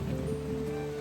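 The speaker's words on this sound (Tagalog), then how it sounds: "Napakaulan po ngayon guys." Heavy rain falls steadily in a continuous, dense wash, with no voices in the short stretch.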